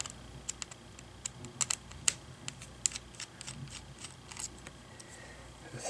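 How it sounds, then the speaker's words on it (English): Small screws being backed out of an Acer Chromebook 11 CB3-111 with a handheld screwdriver, heard as quiet, close, irregular clicks and faint metallic ticks against a low background hum. "screwdriver to remove the screws."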